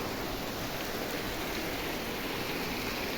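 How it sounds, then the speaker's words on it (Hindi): A heavy downpour roars as an even, unbroken wash of noise, loud and close, with no voices heard. "तो आप लोग देख सकते हैं कितना मस्त लग रहा है, कितना जोर जोर से बारिश आ गई है।"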